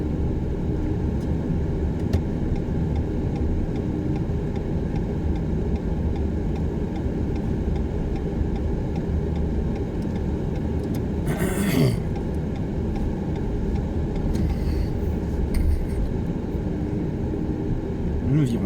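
A car driving toward the motorway during a driving lesson gives off a steady, close in-cabin road and engine rumble through the whole stretch, with brief speech near the middle.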